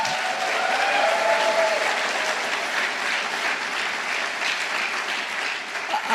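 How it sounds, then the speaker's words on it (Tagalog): A congregation at a Tagalog preaching service claps loudly, a thick, sustained roar of applause that stays steady throughout with no speech over it. "Lakasan niyo yung palakpak niyo."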